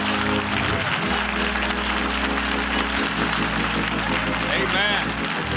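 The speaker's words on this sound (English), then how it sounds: "let's give a great big applause to the one that really counts" Church congregation applauding in praise, a dense steady wash of clapping that stays loud throughout, with a low sustained organ-like tone underneath.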